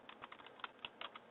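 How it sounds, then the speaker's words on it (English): Fingers type a command on a computer keyboard, a short burst of about ten quick, light key clicks at close range and low volume, with no voice. "NS lookup, we just type NS lookup"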